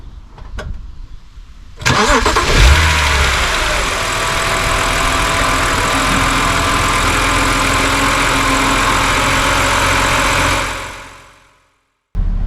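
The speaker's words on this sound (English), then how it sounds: "Time to start the car." A 2006 BMW 325i E90 with the N52 straight-six cranks briefly and catches, then settles into a steady, loud, close idle that runs for several seconds before cutting off abruptly.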